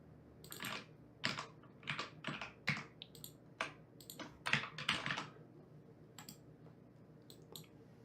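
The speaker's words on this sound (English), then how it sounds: "This is a bloody light strike keyboard. So instead of using traditional mechanical keys, it uses IR keys, and it's really feather light to type on." Typing on a light strike keyboard with infrared optical keys, quick irregular clusters of soft clicking keystrokes, close and fairly quiet, with pauses between bursts.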